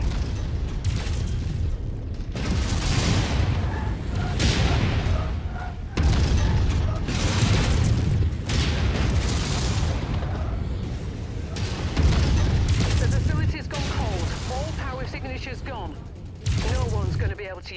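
Missile explosions and heavy weapon impacts in the MechWarrior 5 video game, a dense barrage of loud booms and rumbling blasts with mechanical clanking, continuing throughout alongside game voices.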